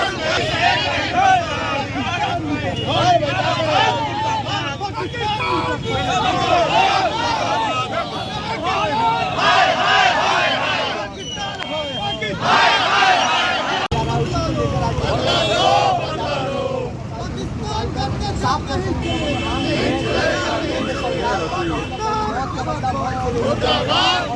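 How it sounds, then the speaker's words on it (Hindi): A crowd at an anti-Pakistan protest rally in Jharkhand, marching from the press club to Maharana Pratap Chowk, keeps up loud overlapping shouting and chanting, with voices and street noise blending close to the microphone. "आक्रोश रैली निकाले हैं प्रेस क्लब से लेके महाराणा प्रताप चौक तक"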